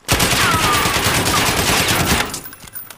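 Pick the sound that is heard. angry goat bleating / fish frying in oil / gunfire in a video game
gunfire in a video game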